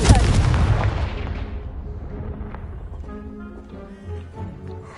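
A Confringo fire spell blast in the video game Hogwarts Legacy bursts loudly at the start, a booming explosion that rumbles and decays over several seconds, with crumbling debris trailing off.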